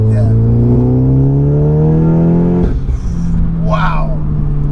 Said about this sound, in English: The engine tone on this, man